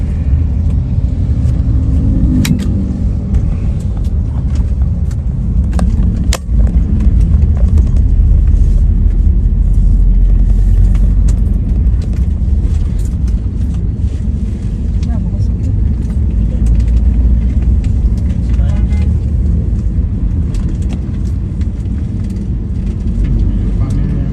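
A car crawls at around 20 km per hour through busy traffic in Limbung, Gowa, Indonesia, its steady engine and road rumble filling the cabin continuously throughout.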